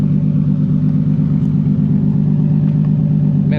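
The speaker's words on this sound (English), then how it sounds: "let me go ahead and rev that right here." A car engine roars through a Tomei Expreme titanium cat-back exhaust weighing 12.6 lbs, giving a loud, close, steady, deep drone that holds level the whole time.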